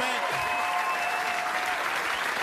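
Sustained applause from a comedy show's studio audience rolls on steadily as a continuous hiss of many hands, with a faint cheer or whistle briefly poking through near the start.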